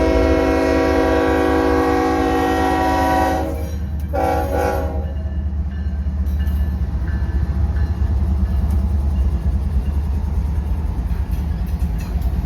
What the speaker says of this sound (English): those 3 same engines that were pulling that local came back through the